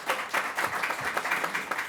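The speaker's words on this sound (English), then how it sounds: "You can clap on that." Applause rises from an audience at an outdoor announcement event at Sahlen Field in Buffalo, a steady crackling patter of clapping that carries through the whole short stretch at moderate volume.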